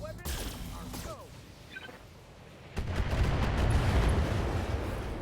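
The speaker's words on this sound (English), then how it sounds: "That was a nice explosion." Weapons fire and an explosion in the mech combat game Battletech: sharp shots and crackling early on, then a heavy, sustained rumbling blast that swells and rolls on loudly to the end.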